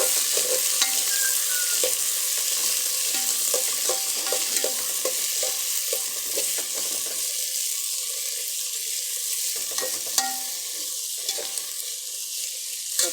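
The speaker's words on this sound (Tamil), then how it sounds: "பச்சை மிளகா போட்டாச்சு நல்லா கிண்டி விட்டுக்கலாம்" Green chillies and onion stirred in a frying pan while cooking chicken curry, a steady sizzle with repeated scraping strokes of the spoon running throughout, close up and continuous with no voices.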